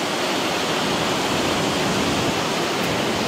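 Wastewater from sewer pipes pouring into the Durenque river, a steady broadband rush of falling and splashing water, constant and fairly close throughout.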